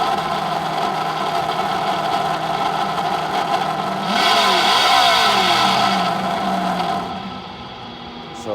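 A Traxxas Drag Slash RC car running on a 3S battery, its electric motor giving a steady whine that rises into a louder rev partway through and then eases off.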